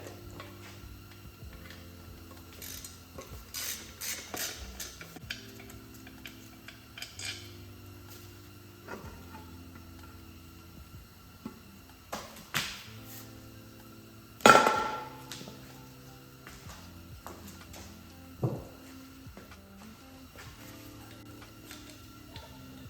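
Hand tools working in a 1.8T engine bay on an MK4 being stripped for a shaved bay: scattered metallic ticks, clinks and taps of wrenches and parts, one sharper clank midway, no talk, fairly quiet and close.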